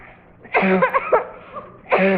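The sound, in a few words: coughing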